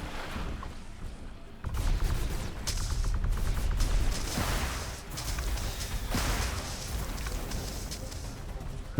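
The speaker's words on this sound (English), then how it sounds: "Artillery's firing" Artillery towers firing in The Riftbreaker, a sci-fi base-building game, while the base is under attack: sustained rumbling bursts of booms and rapid gunfire roll on continuously, loud and dense, with several sharper blasts standing out.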